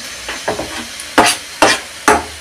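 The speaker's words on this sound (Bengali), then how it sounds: "মশলাটা আমি কষিয়ে নেব।" Spice masala of coriander powder, turmeric and salt for sponge chingri fried in a pan, with several sharp close scraping strokes of a spatula over a faint sizzle.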